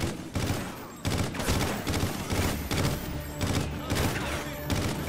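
Sustained, loud automatic gunfire in a Call of Duty Ghosts battle, with dense overlapping shots and brief dips every second or so, close and continuous, with no talking.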